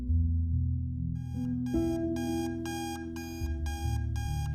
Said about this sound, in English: I awoke hungover that Sunday morning to an alarm that my past self had set.